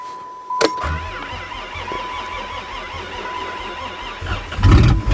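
A car cranks and fires up on a snowy December cold start, a brief starter whir followed by a steady rough idle, close by, with another surge of engine noise near the end and no speech.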